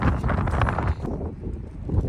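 Strong gusting wind buffets the microphone at a Great Sand Dunes National Park campsite during a snowstorm, a loud, rough low rumble that eases slightly partway through.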